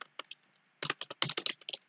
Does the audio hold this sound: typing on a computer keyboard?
yes